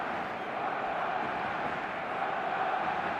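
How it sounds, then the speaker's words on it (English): Stadium crowd in the eFootball PES video game, a dense, steady roar of matchday noise with no distinct voices standing out. "And the matchday noise at this place is truly special."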